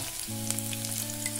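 Onions frying in oil in a pan for an Assamese potato and spinach dish, a steady close sizzle with a constant hum running beneath it throughout.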